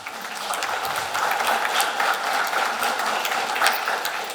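Applause for a therapist introduced at an addictions congress, a moderate, somewhat distant patter of clapping that builds slightly and holds steady.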